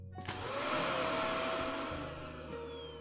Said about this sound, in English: And I just got a vacuum.